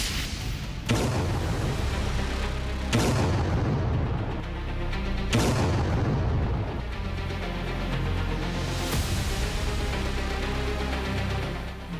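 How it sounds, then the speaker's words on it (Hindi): Heavy booming blasts from Israeli strikes on buildings in south Lebanon hit at intervals of roughly two to three seconds over a constant loud rumbling roar, each impact followed by a long, fading rumble. "बारूदी प्रहार, धुएं का गुबार, एक के बाद एक खंजर में बदलती इमारतें और मलबे का ढेर।"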